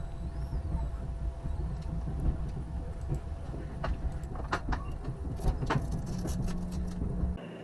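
Inside an Amtrak train heading south out of Vancouver toward Seattle, with a continuous low rumble, light rattles and faint clicks over the rails, steady throughout and without speech.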